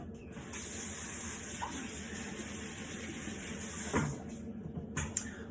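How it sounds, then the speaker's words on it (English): A tap runs at a low, steady level while hands are washed before baking cookies, with soft splashes and a few brief knocks over the flow. "wash your hands."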